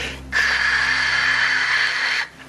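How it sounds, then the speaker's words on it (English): A steady rushing hiss of wind past a descending parachute in a planetary atmosphere rises suddenly, holds for about two seconds, then cuts off, leaving a faint low hum. "what you hear is mostly wind noise as the parachute's descending through the atmosphere"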